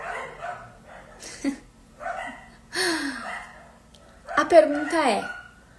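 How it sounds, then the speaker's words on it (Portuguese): Several dogs bark and yip excitedly in bursts across the clip, fairly close and loud at moments, mixed with a person talking over them. "a cachorrada tá enlouquecida."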